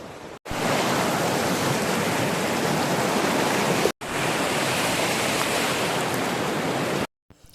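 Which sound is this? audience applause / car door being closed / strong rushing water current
strong rushing water current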